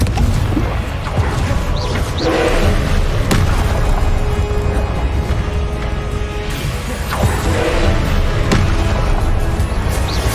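Loud, dense barrage of magical spell blasts and booming explosions during frantic combat in Hogwarts Legacy, with the Confringo fire spell among them, layered impacts and crashes filling the whole stretch with no quiet gaps.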